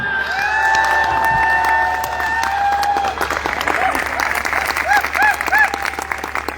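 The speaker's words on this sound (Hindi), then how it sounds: "तो मैं चाहूंगा जब मैं उनका नाम लूं एक बार खड़े होकर तालियां होनी चाहिए।" Loud, sustained applause from a large standing audience at an event fills the whole stretch, with cheering, whistles and tonal music or voices rising over the clapping.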